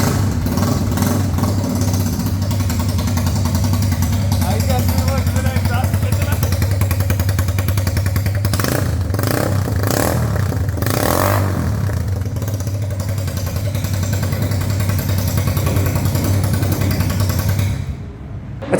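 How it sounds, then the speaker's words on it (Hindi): A Superstar 200cc motorcycle engine runs with no exhaust fitted, a loud steady low rumbling idle with a few brief revs and clattering bursts in the middle, close by, before dropping away at the end. "अभी इस बाइक को स्टार्ट करते हैं और बिना किसी एग्जॉस्ट के भी चेक करते हैं कि ये बाइक कैसे साउंड देता है"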